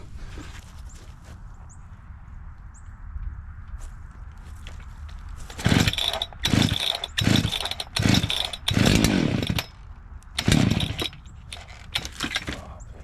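A race chainsaw idles steadily, then revs in repeated loud bursts as it cuts trees outdoors, the high-pitched engine screaming in rhythmic surges before dropping back to idle.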